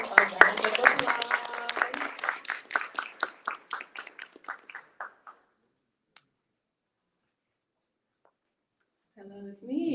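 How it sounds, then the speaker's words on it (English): A live audience claps for GQ Smooth at a film release event, steady applause dense at first then thinning into scattered claps that fade out by the halfway point, followed by silence and faint voices starting at the end. "Give GQ a round of applause."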